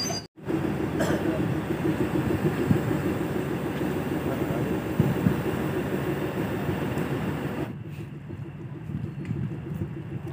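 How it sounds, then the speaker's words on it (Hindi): A train at Godda station, a hill town, with continuous low rumbling rail and carriage noise that stays steady and fairly loud, then drops away toward the end. "ट्रेन गोड्डा पहुंच गई है, तो ट्रेन से उतरकर हम चले स्टेशन से बाहर।"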